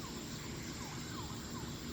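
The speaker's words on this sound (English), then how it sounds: "Hear an ambulance running." Far off in a residential neighborhood of Booneville, Mississippi, an ambulance siren wails faintly, its repeating falling sweeps barely rising above a steady background hush.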